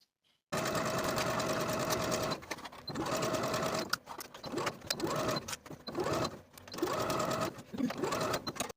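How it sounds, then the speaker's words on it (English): A sewing machine stitching a 5/8 inch seam on a romper runs in loud, steady bursts of rapid mechanical whirring, stopping briefly between runs before starting again, close by with no talking. "Sew with a 5/8 inch seam allowance."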